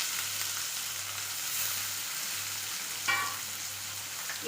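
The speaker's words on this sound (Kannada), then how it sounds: "ಇದನ್ನು ಚೆನ್ನಾಗಿ ಫ್ರೈ ಮಾಡ್ತೀನಿ" Onion, capsicum, tomato and garlic fry in a pan with a steady broadband sizzle. A brief stir or scrape comes near the three-second mark, and nobody speaks.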